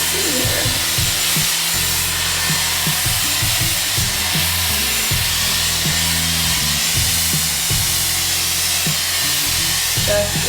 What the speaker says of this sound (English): I like to blow dry it in all different directions.